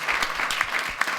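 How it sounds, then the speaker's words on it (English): Brief round of applause from a small audience for speakers on a panel, a loose patter of individual claps, fairly close and moderately loud, lasting about a second. "I would like for you all to give a round of applause to Julius, Charles, Anai, Ty,"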